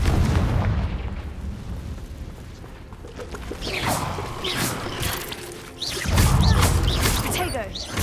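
Fiery Confringo spell blasts from Hogwarts Legacy, a fantasy video game, land as dull booming explosions amid layered game combat noise, with a heavy low rumbling burst near the end.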